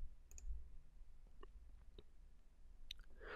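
Faint, sharp mouse clicks on a software button, a few isolated taps spread across a quiet room with a low background hum.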